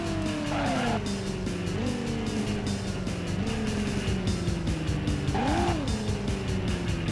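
Car engine revving and tires squealing while driving in the PSOne game Driver, with the motor note rising and falling through repeated gear changes and skids, loud and steady throughout.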